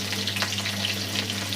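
Cumin seeds and slit green chillies crackle in hot oil for a masala idli tempering: a short, even, close sizzle over a low electrical hum.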